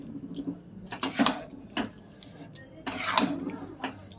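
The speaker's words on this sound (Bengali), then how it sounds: "এবার এটাকেও একটু নাড়িয়ে চালিয়ে নেব" A spoon stirs chicken white sauce pasta in a pan at home, making a few close, sharp metallic clinks and scrapes in separate bursts against quiet kitchen background.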